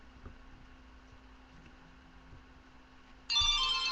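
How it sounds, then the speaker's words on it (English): A mobile phone ringtone starts loud near the end as a bright electronic tone pattern, after a stretch of quiet background hum. "Will you answer your phone?"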